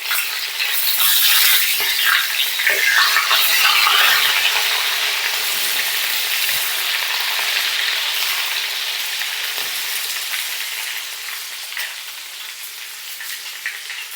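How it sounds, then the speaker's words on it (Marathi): Vegetables are lightly fried in hot oil for a mild village-style dish, giving a loud, steady, hissing sizzle that runs throughout, with a few soft stirring knocks, tapering slightly toward the end. "तर तेलामध्ये छान असं थोडंसं परतून घेऊया."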